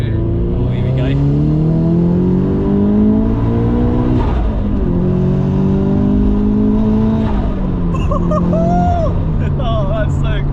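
Heavily modified Toyota GT86 fitted with an HKS turbo kit, over 300 bhp, accelerating hard on an open road, its engine note rising through the gears with a shift near four seconds, while people talk excitedly over the noise.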